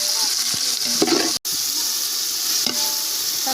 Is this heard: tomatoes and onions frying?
yes